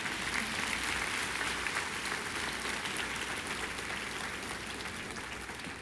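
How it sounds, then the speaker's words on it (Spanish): Steady congregational applause fills a church worship service, a dense, even wash of many hands clapping that holds near and loud throughout before easing slightly toward the end. "Vamos a darle un aplauso al Señor."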